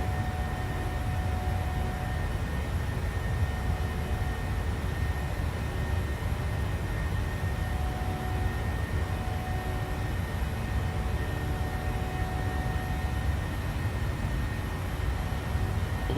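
Steady, loud engine and air roar as a PMDG 737-700 airliner departs in Microsoft Flight Simulator, a constant cabin rumble with no change in level throughout and no voices.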